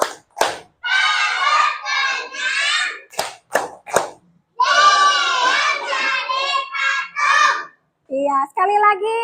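A group of children chant a rhythmic call in unison, punctuated by a few sharp, close hand claps, as they perform the tepuk ikan fish clap routine in a classroom.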